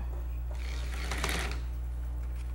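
A sewing machine stitching the hem of a Bimini top runs in one steady, fast mechanical burst in the middle, set against a constant low hum.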